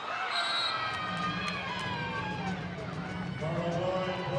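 Arena crowd at a professional volleyball match roaring and cheering after a big block, a loud sustained wash of voices with whistles and shouts, while a commentator talks over it.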